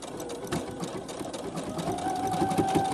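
A sewing machine stitches fabric for ruffles and clusters, giving a steady, close motor whir with a fast, even needle rhythm throughout and no talking.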